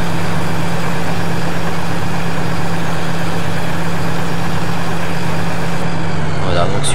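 A farm tractor with its original ballast weights idles nearby, a steady loud low diesel rumble with a constant hum that carries on unchanged to the end.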